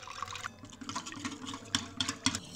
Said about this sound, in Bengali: 4 চামচ কর্নফ্লাওয়ার, সামান্য একটু লবণ, সামান্য একটু গোলমরিচ গুঁড়ো, অল্প জল দিয়ে পাতলা ব্যাটার তৈরি করে নেব।